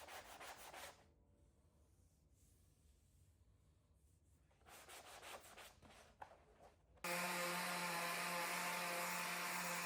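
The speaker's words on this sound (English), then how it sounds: "one thing I like to use on curved objects is these sanding sponges" Soft, close rubbing strokes of hand-sanding curved wood with a sanding sponge come in short bursts separated by pauses, then a loud steady machine-like hiss takes over near the end.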